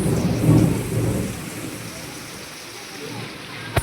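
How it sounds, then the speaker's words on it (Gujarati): Heavy rain pours outdoors during an evening storm, with a low rumble of thunder at first that fades into a steady hiss of falling rain, and a voice talks faintly. "વરસાદ ચાલુ છે"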